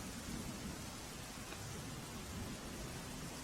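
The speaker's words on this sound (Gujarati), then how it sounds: "કચ્છના નખત્રાણા તાલુકામાં ધોધમાર વરસાદ વરસી રહ્યો છે" Heavy downpour in Nakhatrana taluka, Kutch, a steady dense hiss of rain with a low rumbling undertone throughout, continuous and fairly faint.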